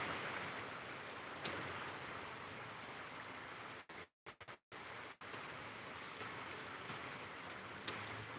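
Rain pours outdoors in Hemayetpur as a steady, dense wash of noise, close and even, with a few brief dropouts partway through.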